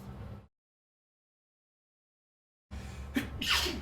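A single sharp sneeze bursts out close up after a stretch of silence, preceded by a quick intake of breath.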